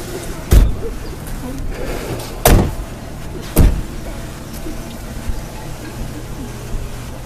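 A car door opening and shutting as someone gets out, heard as three sharp thumps spread over several seconds against a quiet interior hum, with a faint voice in between.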